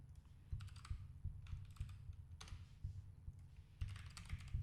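Clicky keystrokes on a computer keyboard at a desk, arriving in short bursts of quick taps over a low background hum, with no talking.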